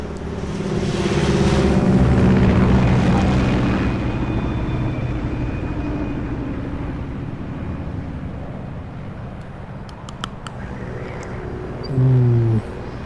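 Unmarked US Air Force plane in Metal Gear Solid Snake Eater, a loud, steady low engine roar and rushing drone that swells early, then holds as a continuous hum, with a brief louder tone burst near the end.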